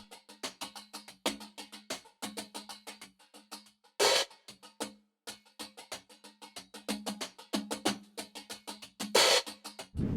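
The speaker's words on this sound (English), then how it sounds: "When we listen to the hi-hat soloed, it sounds like this." Soloed hi-hat playing a 16th-note pattern in a laid-back chillhop groove, with ticking strokes of varying loudness and a couple of longer open washes, close and alone.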